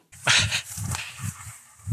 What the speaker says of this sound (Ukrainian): Це зараз собака породи американський стафорський тер'єр радісно бігає подвір'ям нових господарів